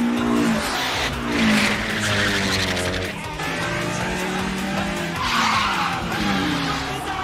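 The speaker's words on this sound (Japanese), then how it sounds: "なんて速い車だ。" A fast car on a downhill mountain race in Initial D, tyres screeching in long skids while the engine revs, loud and close throughout, with a voice speaking briefly over it.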